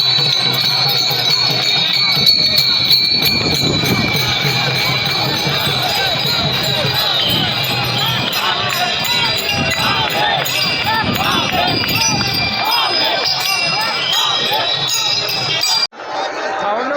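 A dense crowd of pilgrims at Pandharpur waiting for the palkhi procession on Ashadhi Ekadashi, a continuous murmur of many voices with chatter and shuffling, steady and fairly loud, plus a faint high whine over it.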